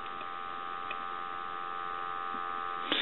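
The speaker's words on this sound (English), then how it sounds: "our handset that also has dial tone" A telephone handset gives a steady, continuous dial tone that holds unchanged for about three seconds, ending with a short click.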